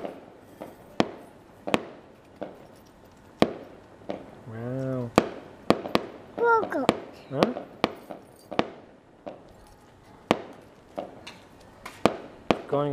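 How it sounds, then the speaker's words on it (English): Repeated sharp fireworks pops and bangs at irregular intervals, some distant crackle between, with people talking over them. "Say cool firework, Kay."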